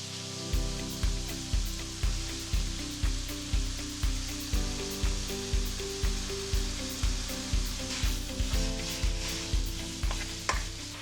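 Meat fries in a pan with a steady close sizzle, punctuated by regular rhythmic stirring or scraping beats about twice a second throughout.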